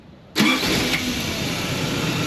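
A Toyota pickup with a stuck, engaged starter solenoid and a bad spade connector at the starter cranks briefly, then the engine catches and settles into a steady idle close by.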